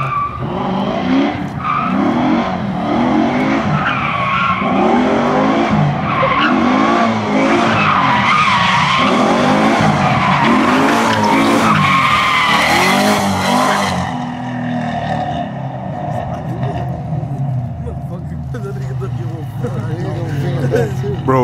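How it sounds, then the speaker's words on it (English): A widebody Hellcat and a Camaro street drifting, with long loud tire squeals and skidding over roaring engines, while people talk nearby throughout. "a car's so loud, and it could be louder"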